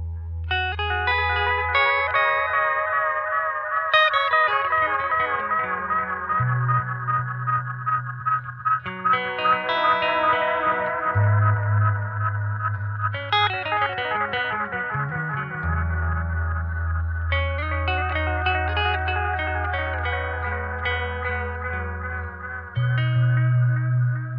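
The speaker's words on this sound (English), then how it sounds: "the first analog delay pedal, the Jam Pedals DelayLama Xtreme" Guitar played through a Jam Pedals DelayLama Xtreme analog delay, phrases of notes trailing off into repeating echoes, loud and continuous without any voice.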